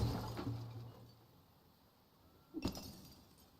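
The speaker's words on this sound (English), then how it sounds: "I do like the sound of the breaking glass" Glass breaks in the video game Enshrouded as a single brief, faint crash and tinkle near the end, following a low murmur of background game ambience.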